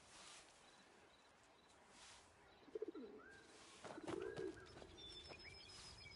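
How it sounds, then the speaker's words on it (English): A pigeon in the video game Where Winds Meet gives a few soft coos amid faint chirps and light ambient rustle, distant and quiet over a steady background hush. "Where that bird at? I hear the bird."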